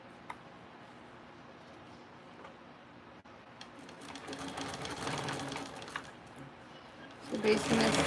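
A sewing machine basting a seam at an eighth of an inch runs in a soft, rapid ticking whir that builds louder and denser toward the end, with a voice talking quietly alongside.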